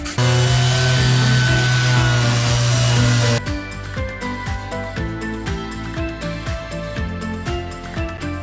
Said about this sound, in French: l'enduit est déjà sec, donc j'en profite pour le poncer et pour faire quelques petites finitions